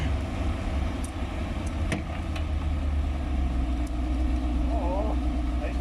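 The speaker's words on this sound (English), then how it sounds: "my son started the car, and of course that was a surprise" Corvette C4 convertible engine idling after starting, a steady low rumble close by with faint clicks and some background voices.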